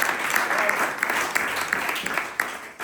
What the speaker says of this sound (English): Please, join me in an applause.